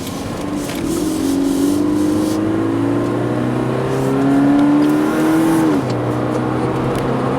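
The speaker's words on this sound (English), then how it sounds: "Let's head out on the road in the automatic BRZ." A 2019 Subaru BRZ Limited automatic sports car drives on the road, its engine note rising through the gears with a clear upshift, then settling into a steady lower drone under road noise; no one talks.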